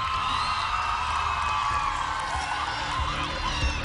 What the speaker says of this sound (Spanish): Recibamos nuevamente con un caluroso aplauso a Joandri y Johan.